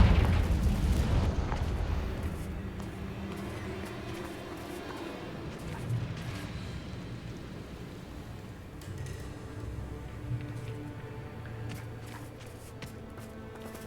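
Repeated Confringo fire spell blasts in Hogwarts Legacy, a loud booming explosion at the start followed by a dense rumbling wash of bursts, crackles and impacts that tapers off.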